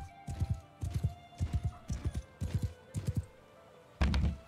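Horse hooves clip-clop in a steady, repeating gallop rhythm within the medieval combat game Mount & Blade II: Bannerlord, moderately loud, with a heavier thud near the end and no talking.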